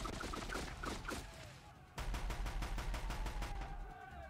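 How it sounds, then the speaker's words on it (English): A machine gun firing in Horizon Zero Dawn: a fast, even burst of loud, close shots follows a spell of scattered battle noise. "what's this guy got? It's like a machine gun?"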